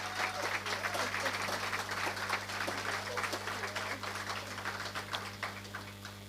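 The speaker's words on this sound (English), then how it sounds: "So please give them the round of applause" Scattered applause from a lecture audience, a steady patter of claps over a constant low hum, fading slightly toward the end with no talking.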